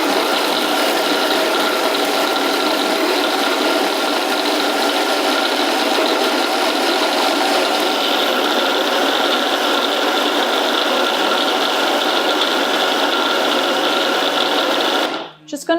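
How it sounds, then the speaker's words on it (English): Ingredients for a rose trifle being mixed with an electric whisk, a loud steady motor whir that runs continuously for about fifteen seconds before cutting off. "and you just whisk."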